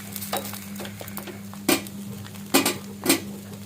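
Batter for a traditional Konkan layered steamed cake is scraped and stirred in a pan, with several distinct spoon-on-metal strokes over a faint steady sizzle and a low hum.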